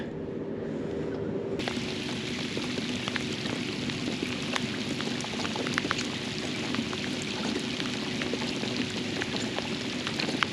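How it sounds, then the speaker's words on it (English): Steady rain patters on the water and a kayak during a fishing outing on the Sound, a constant broadband hiss with scattered sharper drop ticks throughout, fairly close and unbroken, with no talking. "Comes a little more rain."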